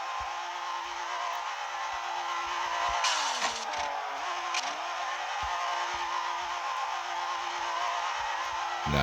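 Engine of a BMW M3 drift car in the racing game Assoluto Racing, a steady, continuous drone held at fairly even loudness, with brief revving dips and swells midway through and no talking.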